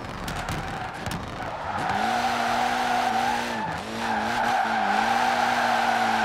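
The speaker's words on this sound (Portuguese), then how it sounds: "não é que faz o drift mesmo" A tuned Honda Civic Si Turbo drifts through a roundabout in Forza Horizon 4, its engine droning loudly under a long, wavering tire squeal that dips briefly and then resumes, with no voices.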